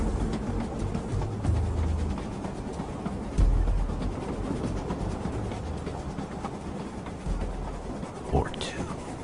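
A train rumbles on steadily at moderate loudness for several seconds, with a thicker low swell partway through and a brief voice near the end.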